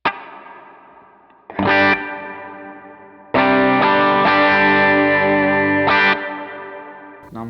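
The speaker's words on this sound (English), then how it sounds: "my A is my always on reverb on my BigSky." Guitar played through an always-on reverb preset on a Strymon BigSky, two loud, sustained chords ringing out with a shimmering wash of reverb trailing after each strike, no voices.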